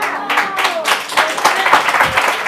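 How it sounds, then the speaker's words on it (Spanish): An audience claps after a magic trick, with a short burst of uneven hand claps mixed with excited voices calling out over it, close and lively. "¡Aplausos más fuerte!"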